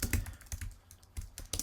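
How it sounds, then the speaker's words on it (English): Fingers type quickly on a computer keyboard, giving a close, steady patter of key clicks with no talking. "And I'm going to type in now"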